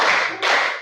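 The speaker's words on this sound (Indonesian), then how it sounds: "Tepuk 1, tepuk 2, tepuk 3," A group of students claps together in a counted rhythm, two quick bursts of many hands sounding close and fairly loud over less than a second.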